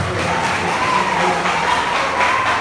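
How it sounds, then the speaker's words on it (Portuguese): A church congregation at a pastor's consecration service applauds steadily and loudly, a dense, continuous wash of clapping and crowd noise with faint cheering and no clear voice standing out. "aplauda o Senhor mais uma vez, bem forte"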